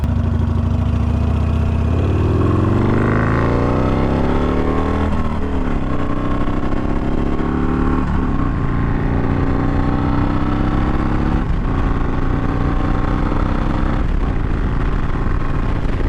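A Harley-Davidson Sportster fitted with a crash bar rides along the road. Its loud, close engine drone rises in pitch through several gear shifts, with wind rushing steadily beneath it.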